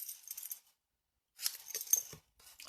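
Cutters snipping the end off a piece, short faint metallic clicks and rustles in two brief bursts separated by quiet.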